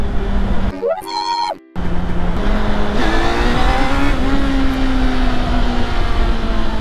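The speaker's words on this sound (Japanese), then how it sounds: "あーんって音が、まさに V テックの音" A Honda CB400 Super Bore motorcycle with a VTEC engine revs hard, rising to a high rasping wail and then holding a steady, loud drone, with a brief gap early on.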